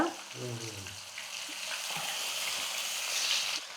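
Fish pieces shallow-frying in a pan for a home-cooked lunch give a steady, close sizzle throughout, with a few brief low voice-like sounds near the start.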